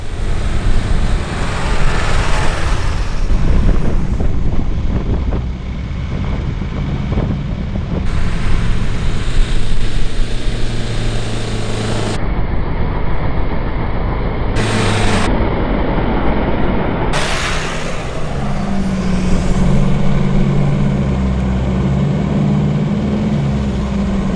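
A 4x4 drives in third gear low range through soft sand dunes on the NSW Mid-North Coast with tyres aired down, engine drone and heavy wind buffeting the microphone throughout.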